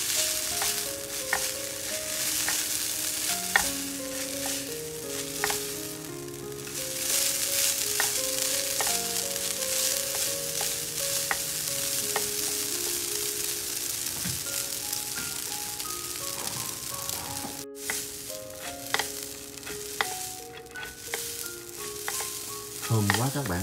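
Vegetarian noodles seasoned with soy sauce are stir-fried in a pan with a long, steady sizzle like light rain. A few utensil clinks and scrapes cut in, and faint background music runs underneath; no one speaks.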